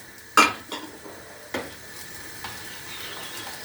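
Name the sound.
stirring cheese with spices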